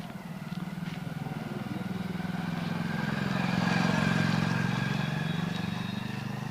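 A motorcycle engine drones steadily, swelling louder as it draws near and then easing slightly as it passes, with a low rumbling hum throughout.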